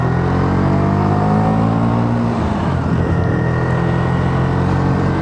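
A motorbike engine labours steadily up a steep road, a loud, continuous droning hum with a slight dip and pitch change midway, heard from the rider's position.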